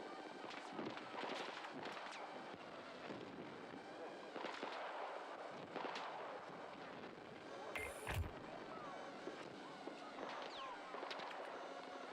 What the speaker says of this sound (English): so now I'm getting fucking mortar spammed